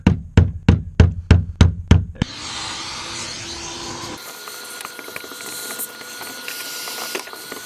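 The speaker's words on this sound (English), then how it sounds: "I'm gonna take a flathead screwdriver and just start tapping this off." A flathead screwdriver taps a fuel pump part loose on a Mk2 GTI's in-tank fuel pump, giving seven sharp, evenly spaced metallic knocks up close, followed by a steady whooshing, vacuum-like drone.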